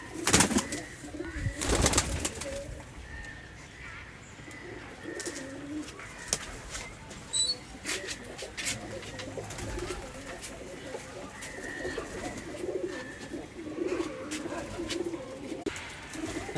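A tagged Giribaj pigeon is let go amid other pigeons, with near, repeated cooing and scattered thumps and wing flutters over a low background.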